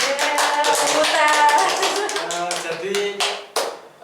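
A group of people at a coaching session claps hands in quick, uneven taps heard close, mixed with speech throughout.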